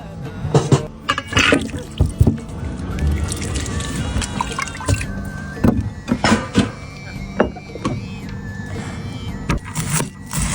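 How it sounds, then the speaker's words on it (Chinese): Carrots and potatoes being rinsed by hand in water outdoors, with irregular splashes, scrubbing scrapes and knocks close by, and a low background hum throughout. "胡萝卜也是，这样洗一下就行了。"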